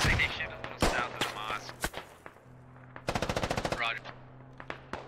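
Bursts of machine gun fire in the military shooter game Squad, with several sharp single shots followed by a rapid, evenly spaced automatic volley; someone speaks briefly between shots.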